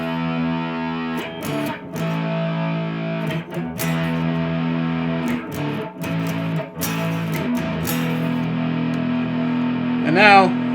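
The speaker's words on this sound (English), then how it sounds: "here is what the neck pickup sounds like with some dirt and distortion on it." Electric guitar played through its neck pickup with distortion, sustained overdriven chords and riffs ringing steadily with brief gaps, ending on a bending, wavering note; loud and up close, no talking.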